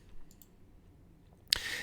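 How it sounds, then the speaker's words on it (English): A single sharp mouse click sounds near the end, closing a dialog in Microsoft Excel, crisp and brief against quiet room tone. "I'm going to click Close here."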